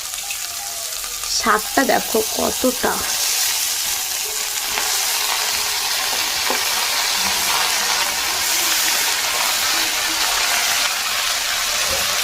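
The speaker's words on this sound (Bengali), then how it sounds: "পেঁয়াজ লঙ্কাটা ভাজা হয়ে গেছে, অ্যাড করলাম চিংড়ি মাছ" Shrimp frying in a pan with onion and chilli, a loud steady sizzle with a few clinks of stirring near the start while someone speaks briefly.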